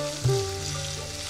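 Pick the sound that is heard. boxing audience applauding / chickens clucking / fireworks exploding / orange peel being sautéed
orange peel being sautéed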